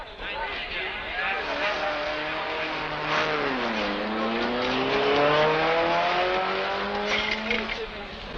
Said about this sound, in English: out on the circuit, 3 Ferraris battle desperately for the lead